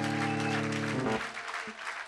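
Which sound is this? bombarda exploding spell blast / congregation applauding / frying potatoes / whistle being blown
congregation applauding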